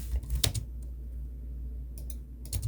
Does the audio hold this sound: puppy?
no